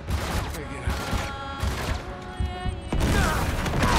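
Grenade blasts and gunfire in the video game Uncharted 3: Drake's Deception, a dense burst of booms and shots that keeps going, with a loud jump near the end and a player talking over the action.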